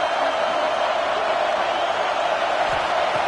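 Dense, steady roar of a college football stadium crowd, loud and continuous with a faint cheer rising near the end.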